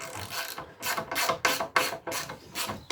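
A ratchet wrench loosens the two bolts holding a motorcycle brake caliper carrier, giving a close, rhythmic series of about eight rasping, clicking strokes with brief pauses between them.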